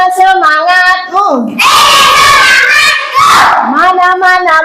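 A class of students shouts a loud rhythmic cheer chant in unison, with sustained bursts of massed voices that alternate with a teacher's calls.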